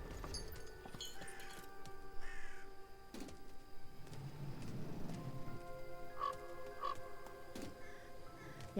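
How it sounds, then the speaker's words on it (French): A crow caws several times in the video game Gloomy Eyes, its calls rising over a dim, droning ambient game soundscape with soft tonal music and a low rumble. "Il y a un corbeau là."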